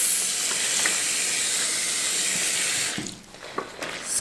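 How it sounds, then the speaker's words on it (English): Cold tap water runs and splashes steadily over a knitted garment in a sink, a continuous hiss that breaks into gurgles and softer trickles near the end. "feel free to just run the cold water over it again like this"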